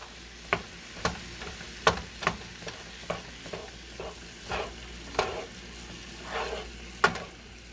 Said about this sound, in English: we're going to cook this until it is no longer pink, and breaking up the ground beef as we go along